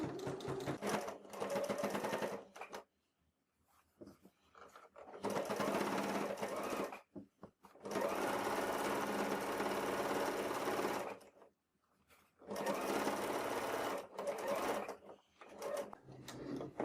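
A domestic sewing machine stitches fabric for a notebook cover in three steady runs of rapid whirring, separated by short quiet pauses, heard up close.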